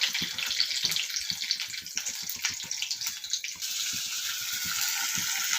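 Onion, chili and garlic frying in hot oil with black cumin seeds, a steady close sizzle with irregular crackles and pops throughout, no voices.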